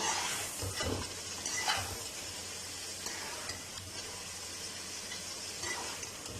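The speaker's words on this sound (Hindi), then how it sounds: "अच्छी तरह मिक्स करेंगे मसालों को और थोड़ी देर के लिए मसालों के साथ भून लेंगे" Potatoes roast with turmeric and other spices in a karahi for an Afghani aloo karahi. A soft, low sizzle carries a few faint stirring scrapes near the start, quiet and steady with no talking.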